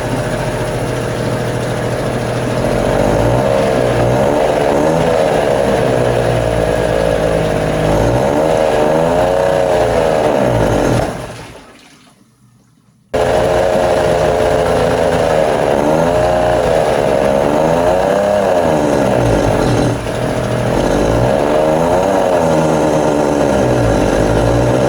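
Rough-running 1968 boat engine shaking hard, a loud steady drone with pulsing uneven firing, cutting out briefly for about a second before roaring back as cylinders are disabled one at a time.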